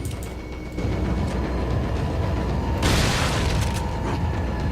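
An explosion in the video game Resident Evil 4 erupts as a deep boom that swells into a loud rushing blast midway, over a constant rumbling game soundtrack.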